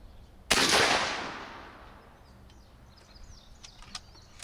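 A single .50 caliber rifle firing a 310 grain round, one loud close blast with a long echoing decay over open ground, followed by faint birdsong and light clicks.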